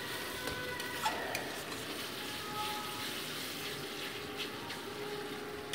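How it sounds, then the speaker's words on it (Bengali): Ginger, garlic, cumin, coriander and red chilli paste frying in a pan, making a continuous soft sizzling hiss with no voices. "এবার আমি বেটে রাখা লাল লঙ্কা অ্যাড করে দিচ্ছি এর মধ্যে"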